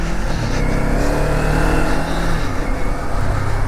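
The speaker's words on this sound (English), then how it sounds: "And then we're going to do a rear brake only," A Ninja 500 ABS motorcycle rides while braking with only the rear brake; a steady, loud engine and road roar runs throughout without pause.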